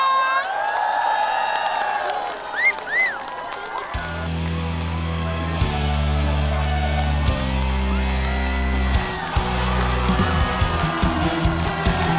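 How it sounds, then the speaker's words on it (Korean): A concert crowd at an outdoor trot show in Yeoju cheers, whoops and shouts loudly, a broad roar of many voices that keeps going as band music kicks in partway through. "함성!"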